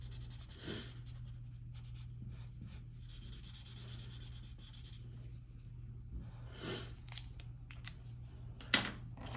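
A red marker coloring in the middle section of a reproductive anatomy diagram on paper, quiet close scratchy rubbing strokes in short bursts with pauses between them, no talk.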